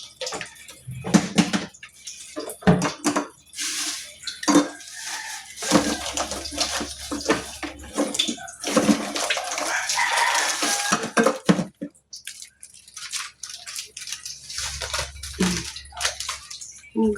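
Dishes, pots and cutlery are washed by hand, with water splashing and running, plates and pans clattering, and metal utensils clinking in irregular, close bursts.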